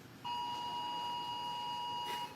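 A phone alarm sounds one long steady electronic tone, held for about two seconds at moderate volume in a quiet room, with no talk over it.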